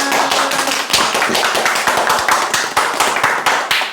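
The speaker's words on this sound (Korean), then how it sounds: "박수" Steady applause from a lecture audience, dense overlapping claps that keep going at an even level throughout.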